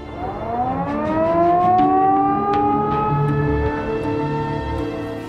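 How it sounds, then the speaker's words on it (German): A quarry blasting warning siren at a stone quarry winds up and holds a loud, rising wail, its pitch climbing then sustaining steadily for several seconds, heard in the open with no talking. "Zuerst die Sirene."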